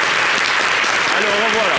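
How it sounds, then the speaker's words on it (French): Studio audience applause on a French television entertainment show, a dense steady wash of clapping filling the whole short stretch with a voice faintly audible underneath. "Applaudissez pour elle, s'il vous plaît."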